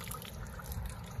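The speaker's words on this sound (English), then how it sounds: "look at that fire sprinkler water" Fire sprinkler water pours out of a building drain in a continuous splashing, trickling stream, close and fairly loud, with a heavier splash right at the end.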